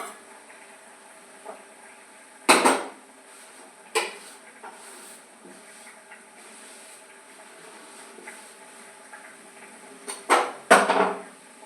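A metal container of ghee is moved around a home kitchen, giving a few sharp metallic clanks and knocks spread apart with quiet gaps between them.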